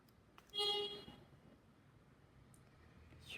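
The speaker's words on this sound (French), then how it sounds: "Supplément klaxon." A car horn honks once outdoors with a short, steady toot from the middle distance, followed by faint background noise and no talking.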